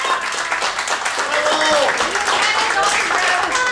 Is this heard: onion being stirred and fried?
no